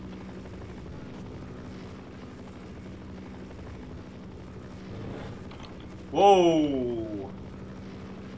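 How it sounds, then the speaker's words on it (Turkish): A helicopter in the Half-Life video game drones steadily in the background as a rising whirring sweep swells loudly near the end, with a voice exclaiming briefly. "Şu helikopter çok sıkıntı ya."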